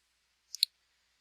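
A computer mouse clicking a button during a WordPress install, two quick sharp clicks close together in otherwise near silence.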